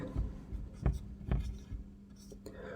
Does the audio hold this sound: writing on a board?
yes